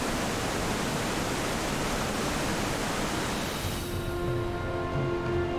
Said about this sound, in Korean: 압도적인 폭포 소리